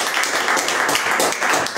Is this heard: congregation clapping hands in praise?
yes